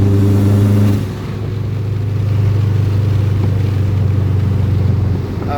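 A Subaru WRX engine pulls hard from inside the car during a ride-along, its steady low drone carrying a faint turbo whine; the engine note drops after a brief rev at the start and then holds loud and continuous.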